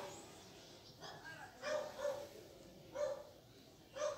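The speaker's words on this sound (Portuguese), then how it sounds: "Tô escutando barulho de cachorro na rua latino, que é na rua onde eu moro aqui." A dog barks out in the street near a home, in several separate barks in irregular bursts. The barks are faint and distant over low background noise.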